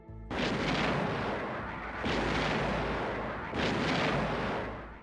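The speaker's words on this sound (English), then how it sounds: "U.S. battleships rained 16-inch shells on Iraqi forces." Three massive booming blasts from a battleship's 16-inch guns fire in slow succession, each a deep roaring explosion that rumbles and fades before the next.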